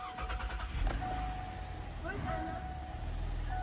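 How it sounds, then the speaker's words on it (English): A Buick Enclave's engine cranks and catches, a low rumbling start that settles into a steady idle, with a voice briefly audible over it. "so now I'm just going to start the car."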